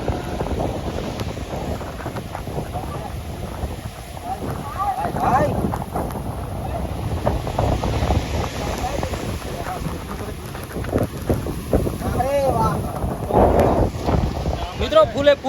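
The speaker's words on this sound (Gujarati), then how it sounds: "ફૂલે ફૂલ વરસાદ સાથે અત્યારે તમે જોઈ શકો છો પવન આવી રહ્યો છે અને દરિયો છે એ એકદમ મોજા ચડી રહ્યા છે" Strong wind and heavy rain beat against the microphone at night near the rough sea at Dwarka, a dense continuous roar with gusty surges and a deep rumble, close and loud throughout, with waves churning beneath.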